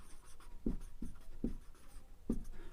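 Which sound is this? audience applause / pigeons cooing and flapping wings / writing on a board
writing on a board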